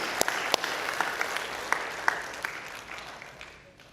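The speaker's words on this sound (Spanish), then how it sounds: "Dale un fuerte aplauso a Él" Congregation applause during a church sermon, a dense wash of many hands with a few sharp, close claps standing out, steady at first and gradually fading away.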